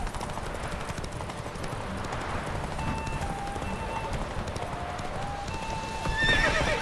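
A horse gallops during a race in The Witcher 3, with steady rapid hoofbeats throughout and a horse whinnying near the end, mixed with ambient game sound.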